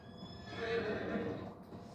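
A horse whinnies in Farming Simulator 25, a single drawn-out neigh that rises and falls over about two seconds, fairly close, with a faint clip-clop underneath.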